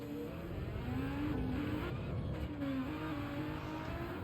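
A car engine in a racing video game revs steadily with a couple of rising and falling pitch sweeps, held at a moderate level throughout.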